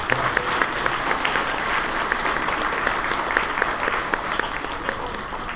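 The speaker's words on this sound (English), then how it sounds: "Can we give them a round of applause?" A school audience claps steadily at a spelling bee, with sustained applause from a crowd filling the hall and a little talk underneath.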